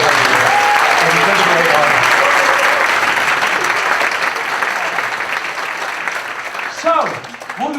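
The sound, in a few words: audience applause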